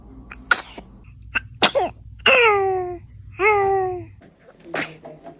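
A baby sneezes several times in short, sharp bursts, mixed with small vocal cries and babbling sounds, close and fairly loud in a quiet room.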